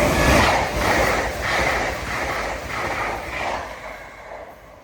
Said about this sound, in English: passing through now is an LNER Azuma to Harrogate.